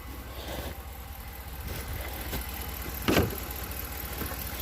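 A Cadillac engine idles steadily at a low rumble, with a brief louder knock or clunk midway and no voices.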